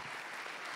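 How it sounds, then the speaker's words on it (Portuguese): Steady applause from an audience at a stage hypnosis show, a dense uniform clapping that fills the whole short moment without any voices over it. "Uma salva de palmas ao nosso tradutor."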